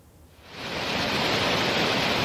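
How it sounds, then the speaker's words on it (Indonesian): Floodwater rushing fast through a flooded luxury housing estate in West Surabaya after heavy rain, a steady loud broadband roar that swells up within the first half second and then holds constant. "Air mengalir deras membanjiri salah satu perumahan mewah di Surabaya Barat Kamis petang"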